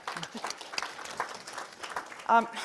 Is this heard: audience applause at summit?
yes